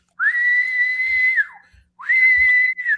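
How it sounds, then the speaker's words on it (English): Whistles blown at a protest, two long shrill steady blasts close and loud, separated by a short gap, with a faint thud or two beneath. "White people with whistles."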